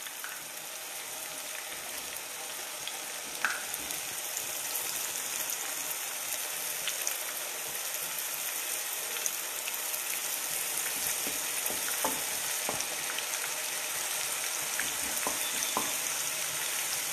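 Onions and whole spices such as cloves and cardamom frying in a pan, a quiet, even crackling sizzle with scattered pops and faint clicks, heard alone without voices.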